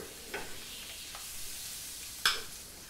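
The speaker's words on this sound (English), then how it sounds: "you can either fry the pheasant eggs in a little bit of butter, or you can use some oil" Pheasant eggs frying in a little butter or oil give a soft, steady sizzle close by, broken by a few brief pops and one sharper crackle near the end.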